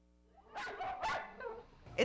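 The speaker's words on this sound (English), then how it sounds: "It's the cry of a dog in an overcrowded facility." A dog in an overcrowded animal shelter lets out two loud, close barks with a whining edge, then a fainter yip, in a quick run of cries.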